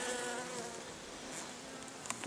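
Honey bees buzz at the hive in a dense, continuous drone, close and steady throughout, with no voices.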